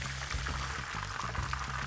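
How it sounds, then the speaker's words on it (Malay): Another batch of chicken fries in hot oil, a steady dense sizzle and bubbling that fills the whole stretch without pause, close and even in level. "Kita goreng lagi satu batch."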